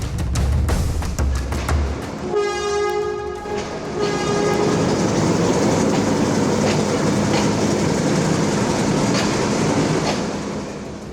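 Train engines rumble along the railway tracks at Lahore station, with a loud horn sounding partway through over steady clattering wagon noise, close and continuous, with no one speaking.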